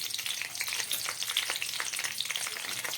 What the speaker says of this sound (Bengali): এই তেলটার মধ্যে আমি দিয়ে দেবো ওই 3টে মতো তেজপাতা, আর দিয়ে দিচ্ছি 3-4টে কাঁচা লঙ্কা